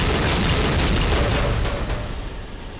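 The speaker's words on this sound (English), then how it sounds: "Now time for the return of the best weapon, the grenades." Grenade blasts in the video game Postal make a loud, sustained explosive roar that fills the whole moment and trails off slightly at the end, with no voices over it.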